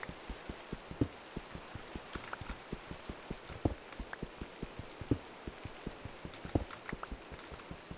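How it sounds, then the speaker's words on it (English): Rain falls in Minecraft and is heard from indoors as a quiet hiss under evenly spaced, sharp drip-like ticks that repeat steadily throughout, with no speech. "Why is there still rain sounds? I'm inside."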